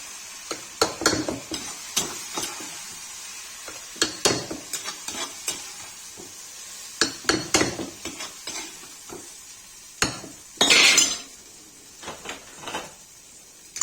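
Chickpeas frying and being stirred in a kadhai, with repeated scraping and stirring strokes over a steady sizzle, close by.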